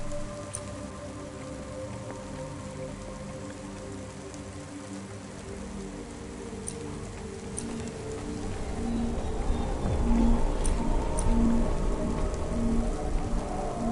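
Steady rain falls in the cyberpunk city of the video game Cloudpunk, a dense continuous hiss with pattering drops that swells louder in the second half over low synth tones, with no talking.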